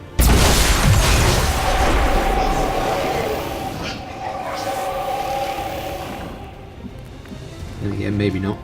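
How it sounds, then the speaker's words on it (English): A grenade goes off in XCOM 2: War of the Chosen, a loud, low boom that rumbles and fades over several seconds beneath game sounds and a voice talking. "Fire in the hole!"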